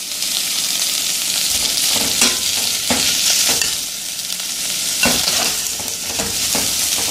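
Carrots and bacon sizzle steadily in a pan for a carrot cream soup, with repeated scraping stirs cutting through a constant, close frying hiss; no voices.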